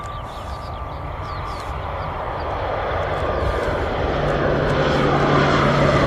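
A propeller airplane departs along the runway at Christchurch Airport, its steady droning engine roar filling the scene and slowly building in loudness throughout, with no talking.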